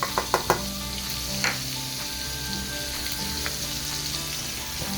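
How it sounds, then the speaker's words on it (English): Flour cooking in about a quarter cup of fat in a pan to make a roux for biscuit gravy, a steady close sizzle with a few sharp utensil knocks at the start. "This is where you make your roux, R-O-U-X."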